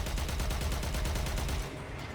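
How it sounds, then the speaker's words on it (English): Rapid repeated firing during a Warframe railjack mission, a fast regular volley of punchy blasts that keeps up for about a second and a half before cutting off into quieter rumble. "Fire torpedoes."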